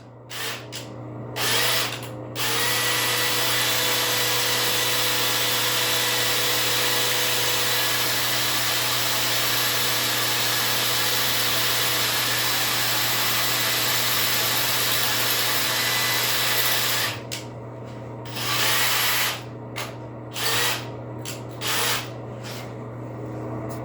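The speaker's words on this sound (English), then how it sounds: "This was called a rotary drill or a hammer drill. This one is made by Bauer." A Bauer rotary hammer drill bores into concrete through a tiled floor, grinding loudly and steadily for most of the stretch, then stopping and restarting in several short bursts near the end.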